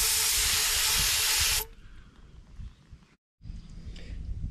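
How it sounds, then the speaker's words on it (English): A loud, steady aerosol spray of suspension cleaner into a RockShox 35 Gold RL fork stanchion hisses for about a second and a half, then cuts off, leaving faint handling noises and room sound. "use some suspension cleaner and just spray it down inside the stanchion"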